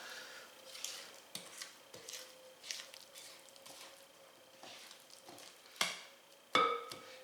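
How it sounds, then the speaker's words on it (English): A spatula scrapes pumpkin bundt cake batter off the walls of a mixing bowl, making soft, intermittent scraping and squishing strokes close by with brief sharper taps, with no talking. "Once again, scrape down the walls of the bowl."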